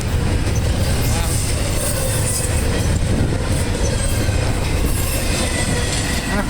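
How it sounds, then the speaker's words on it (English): A Norfolk Southern stack train 213, led by locomotive 8159, passes southbound on the Charlotte mainline in Belmont, North Carolina. It makes a loud, continuous rumble of rolling cars with squealing wheels and clattering rail joints close by. "that was NS Train 213, short 213, heading southbound through Belmont, North Carolina"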